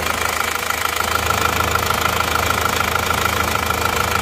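An Isuzu Panther diesel engine runs steadily with a rough, knocking idle during a blow-by gas check on an engine with low compression, a dense continuous clatter and hum with no talk.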